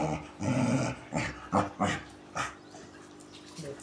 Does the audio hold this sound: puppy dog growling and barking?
yes